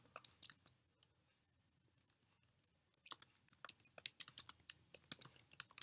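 Rapid keystrokes on a computer keyboard while entering text into a Jupyter markdown cell come in close, crisp clusters, with a brief lull before the typing resumes more densely.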